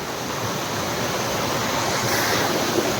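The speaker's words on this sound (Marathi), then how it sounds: "पहा हा इकडून येणारा धबधबा आहे" A steady, unbroken roar of a waterfall in the Sahyadri forest fills the clip, loud and constant with no pauses.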